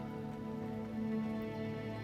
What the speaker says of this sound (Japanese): 今日も大雨だし